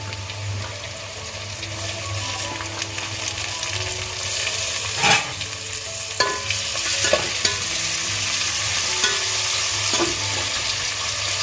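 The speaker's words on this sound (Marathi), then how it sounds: "चांगला मस्त मस्तपैकी परतून घ्यायचा आहे" Onion and tomato sauté in a pan for prawn biryani, giving a constant close sizzle with occasional scrapes and clinks from stirring and a steady low background hum.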